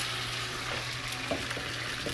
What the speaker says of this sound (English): My sous chef is currently sizzling the olive oil, and we're about to make a little thin omelet.